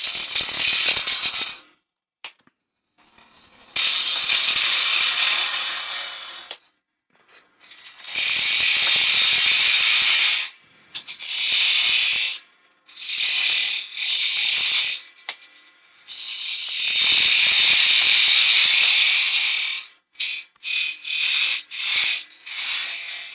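Wood lathe turning a tenon on a workpiece: a loud, high-pitched cutting whine in repeated bursts of a few seconds each, separated by short pauses, with no voices.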